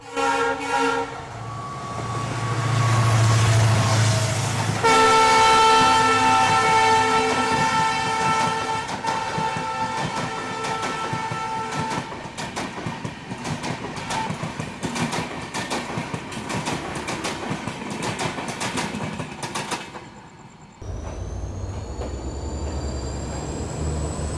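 Dibrugarh Rajdhani express train passing on the outer approach to Guwahati station, a long loud run of rolling wheels and rumbling coaches with horn toots near the start, continuing steadily until it cuts away to a quieter rumble.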